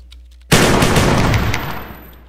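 A Browning Auto 5 semi-automatic shotgun fires in Minecraft, a rapid run of loud, close blasts that blur into one dense burst, trailing off after about a second and a half.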